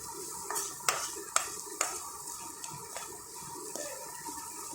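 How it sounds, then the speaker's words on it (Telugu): Urad dal, chana dal and curry leaves being fried for a tempering in a pan, with a light sizzle and several crisp spoon clinks against the metal at irregular intervals, close and quiet, no speech. "ఇప్పుడు మనము ఇవన్నీ వేసిన తర్వాత మరి ఒకసారి ఫ్రై చేసుకుందాం"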